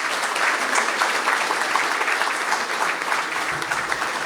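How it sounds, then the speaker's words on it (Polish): A gala audience at an awards ceremony applauds: dense, steady clapping from a large crowd that fills the whole stretch at an even level, with no voices standing out. "Wielkie brawa, proszę Państwa."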